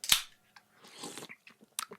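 A voice imitates someone hungrily eating canned gravy, giving short close wet smacks, slurps and chewing noises in a brief burst.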